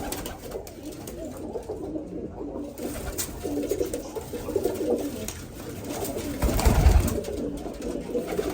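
Domestic pigeons kept in a backyard loft coo in soft, repeated throaty calls, some quite close, over a low ambient hum, with one louder, fuller burst near the end.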